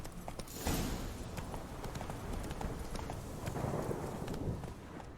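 Horse galloping in The Witcher 3 video game, a steady rapid clip-clop of hooves running continuously at close range, with no talk over it.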